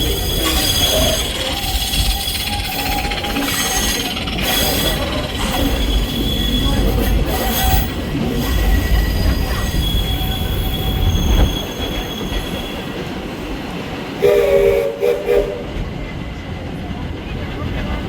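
The Walt Disney World Railroad train rolls along with steady rumbling, rattling and squealing wheels throughout. Someone speaks intermittently over the ride noise.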